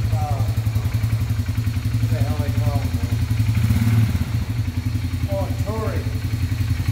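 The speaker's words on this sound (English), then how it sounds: "What was that bike? Hang on. 570 Sportsman Polaris." The engine of a Polaris Sportsman 570 ATV runs steadily in a welding workshop, a low, close, continuous rumble with a few clatters, while people talk over it.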